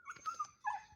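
Dogs attacked by strays let out short whimpering yips and a low growl, faint and close, in quick broken bursts within about a second.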